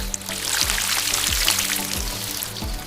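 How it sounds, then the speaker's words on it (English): Water pours steadily onto plants in a continuous splashing trickle, with soft gurgling and dripping throughout, fairly close and moderately loud. "I water the plants every morning."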